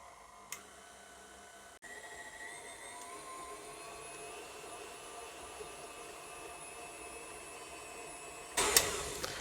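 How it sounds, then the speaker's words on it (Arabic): An electric dough mixer kneads dough for homemade pastry at home, giving a steady motor whir that runs evenly throughout at moderate level, with a brief clatter near the start and a louder rattling burst toward the end. "راح نشغل العجانة ونعجن."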